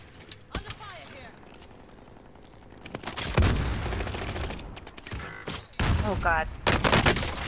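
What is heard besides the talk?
gunfire in a video game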